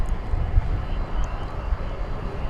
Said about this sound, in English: This is flight 455. It's a 737-800 going to Austin.